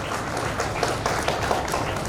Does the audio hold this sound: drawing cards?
no